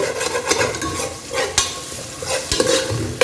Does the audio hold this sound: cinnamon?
yes